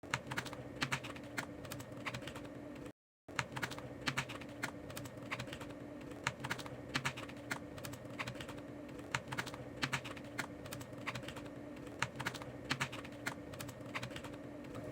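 Steady computer keyboard typing, close and fairly quiet, with rapid irregular key clicks throughout and a brief silent gap near the start.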